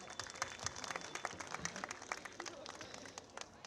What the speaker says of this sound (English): May I request everyone to give them a huge round of applause as we welcome them